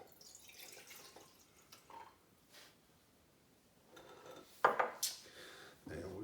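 Twelve-year bourbon is poured into a glass in short, faint trickles and splashes, with a light glassy clink near the end.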